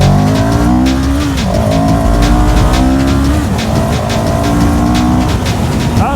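A CFMOTO 700 CL-X Sport motorcycle accelerates hard through its gears, its engine note climbing in rising sweeps with brief dips at each shift, loud and close, with no talk.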